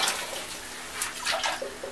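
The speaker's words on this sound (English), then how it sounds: "we're going to take some of this extremely hot water" Extremely hot water poured from a wooden-handled pot inside a wood-stove sauna, a brief soft splashing trickle with a few small surges, fairly faint and heard alone.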